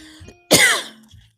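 One short, harsh cough, close and abrupt, with quiet moments on either side.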